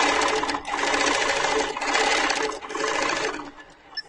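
A sewing machine runs steadily on a larger stitch setting, stitching through fabric in near continuous loud bursts with a couple of brief pauses.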